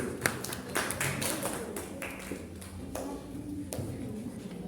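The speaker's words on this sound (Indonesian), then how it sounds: "Berikan tepuk tangan dulu kelompoknya Hadis." Light, scattered clapping from a classroom audience welcoming a student group about to present on the procedure for sujud syukur, sparse taps spread over several seconds with a faint murmur of voices beneath.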